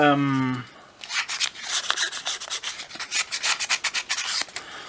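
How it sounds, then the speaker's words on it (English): A metal blade from an Adventure Ridge Leatherman-style multitool is scraped over sandpaper to reshape it, making rapid close rasping strokes in a quick rhythm after a short tonal hum at the start. "I have to give it a new profile on some sandpaper"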